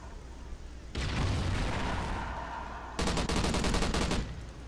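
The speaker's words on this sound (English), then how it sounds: "I'm getting shot." Gunfire in Call of Duty Ghosts team deathmatch multiplayer comes in two sustained bursts of rapid automatic shots, loud and close, with booming impacts and a short pause between the bursts.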